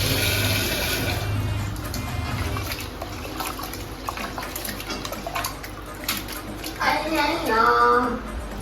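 Rice being washed by hand in a pot of water, soft sloshing and swirling with splashy bursts near the end, heard beneath someone talking.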